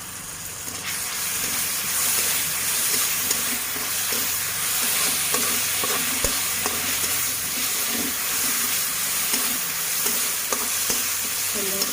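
Onions frying in a pan on a home stove, with a steady broadband sizzle and hiss and repeated scraping stirs throughout, close and fairly loud, with no talking.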